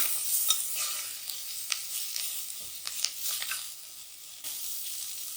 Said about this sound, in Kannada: ಇದು ಲೋ ಫ್ಲೇಮಲ್ಲೇ ನಾವು ಫ್ರೈ ಮಾಡ್ಕೊಬೇಕು.